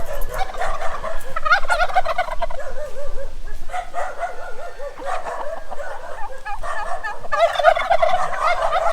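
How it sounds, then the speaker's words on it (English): Several turkeys gobble repeatedly in warbling bursts on a farm in the Philippines, overlapping and close, with a dog barking now and then among them. "I want you to see the turkeys back here."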